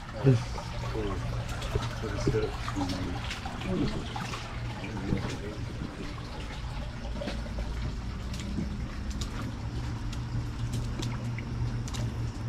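A shallow creek in Albemarle, North Carolina, runs beneath a house, its water trickling and splashing steadily at close range while several people talk over it.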